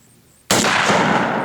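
A single loud gunshot from a 7.62 WWII-era rifle fired outdoors cracks sharply after a quiet moment, then a broad echoing rumble rolls on and fades slowly.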